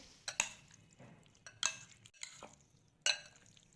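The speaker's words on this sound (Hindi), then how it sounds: "अब हम स्पून की मदद से इसे अच्छी तरह से मिक्स कर लेंगे।" A spoon mixing spices into raw chicken marinade in a bowl, with quiet wet squelching and a few sharp clinks of the spoon against the bowl, close and fairly soft, no talk.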